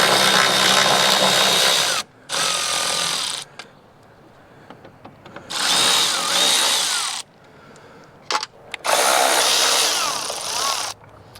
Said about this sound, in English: to get in the cab, we're just pulling these T40 bolts right here.